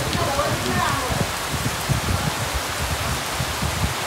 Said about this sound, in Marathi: गावी आल्यानंतर आम्ही पहिल्या पावसात भिजायची मजा करतोय.